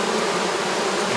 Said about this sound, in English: So now we have all the bees that I shook out of the frames.